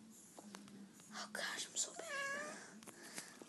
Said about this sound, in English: I don't even know what she's meowing about.